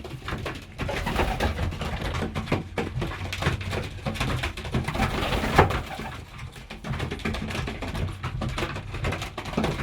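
Pigeons coo continuously inside a loft, a dense, close chorus of soft throaty calls with wing flutters and shuffling, fairly loud and without speech.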